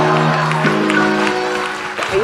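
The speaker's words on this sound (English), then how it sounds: "you're going to give her a rousing applause" Audience at a stage event applauding and cheering as Malaika Arora comes on stage, a broad wash of clapping with scattered shouts over sustained voices and music.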